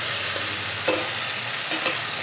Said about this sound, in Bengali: ফ্লেমে এই মশলা একসঙ্গে 4-5 মিনিটের মতো কষিয়ে নেব